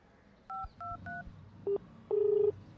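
A quick run of electronic phone keypad beeps, then a short pair of lower tones and a steady beep as the call line drops.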